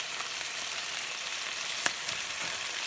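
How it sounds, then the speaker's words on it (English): Chicken frying in a pan over medium to medium-high heat, a steady soft sizzle and crackle with a faint pop, no talking. "So I'm going to cook this chicken pretty much through"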